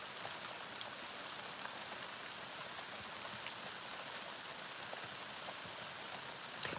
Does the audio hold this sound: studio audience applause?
no